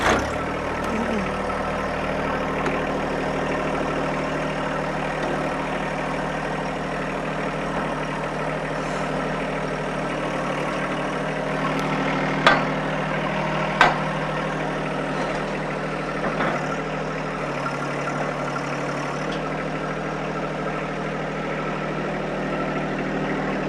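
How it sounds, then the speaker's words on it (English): A John Deere 1025R compact tractor engine idles steadily and close by, a continuous low, even rumble with a couple of brief clanks partway through. "Fire it up, Michael."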